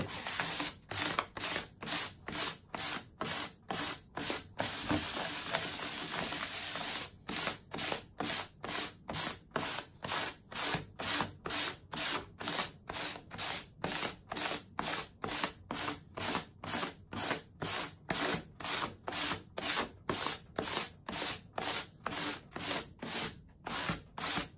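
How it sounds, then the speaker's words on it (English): Sandpaper worked lightly by hand across a raised stencil to wear back the paint, making a steady run of short, regular rubbing strokes, close and fairly loud, with no talking. "You just lightly sand it and you're gonna start seeing the dark come through."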